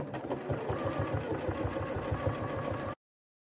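Sewing machine running steadily as it stitches coat fabric guided along the presser foot edge, a continuous close, rhythmic mechanical whir for about three seconds, then silence.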